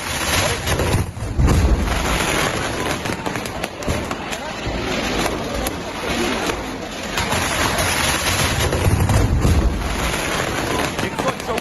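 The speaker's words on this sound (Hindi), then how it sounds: "आतिशबाजी के दौरान देखिए विस्फोट हुआ है" Fireworks exploding at a firecracker stockpile in Kerala, a dense continuous crackling roar with deep booming thumps near the start and again toward the end, with voices mixed in.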